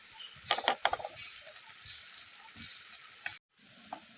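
Tomatoes frying in a pan with turmeric in a Marathi home kitchen, a soft continuous sizzle with a few light clinks of stirring near the start and one brief dropout near the end.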